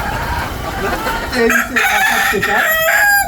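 Native chickens kept in cages on a vertical farm, with a rooster crowing loudly and nearby over a mix of clucking hens and a busy poultry-house background.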